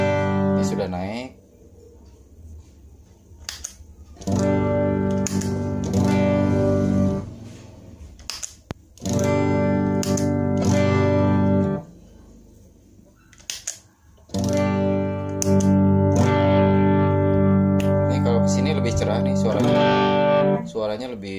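Electric guitar chords through a mini clean booster pedal, strummed in bursts with a bright, slightly pushed tone, ringing out and pausing between phrases.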